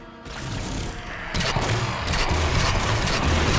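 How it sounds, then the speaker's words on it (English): Halo 4 rifle fire from a video game, firing three-round bursts like a battle rifle, rattles through a dense, loud mix of rapid shots and crashing combat effects, with no voices. "when you zoom in, it shoots once. But then whenever you're zoomed out, it shoots three times"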